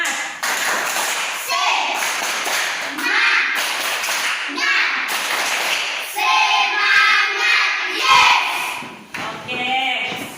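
A class of schoolchildren performs the tepuk semangat clapping routine, with rhythmic group hand claps and taps close by, mixed with children's voices and a teacher talking over the claps.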